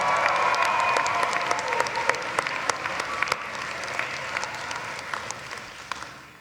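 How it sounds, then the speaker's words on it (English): Sustained applause from a large crowd at a commencement ceremony fills the space, dense and even, slowly fading toward the end. "Let's give them a round of applause as well."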